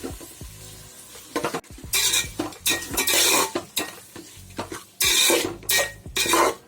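Prawn biryani mixture is stirred in a pot, a spoon scraping and clattering against the metal in loud bursts over a soft sizzle, with brief pauses between strokes.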